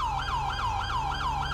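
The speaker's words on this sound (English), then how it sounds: "We've got a LASD siren in as well, too." A Los Angeles County Sheriff's Department police siren from the LSPDFR mod for a police video game wails in a steady, repeating up-and-down cycle, loud and continuous with no talk over it.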